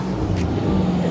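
BMW drift cars running on a track during a big BMW festival in Ireland, a steady loud engine drone close by with no clear passes or revs.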